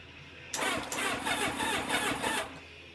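A 1990 Kawasaki ZX-7 motorcycle engine cranking on jumper cables, the starter churning in a rapid rhythmic whir for about two seconds after a short quiet start, then cutting off, close and loud.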